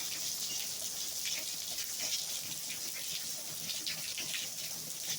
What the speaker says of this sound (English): It's raining up here now.